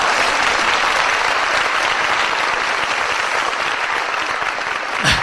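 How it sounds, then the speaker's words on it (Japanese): Sparse, thin clapping from an audience at a talk on success, a steady patter of hands that carries on evenly for several seconds before a brief bump near the end. "細々とした拍手"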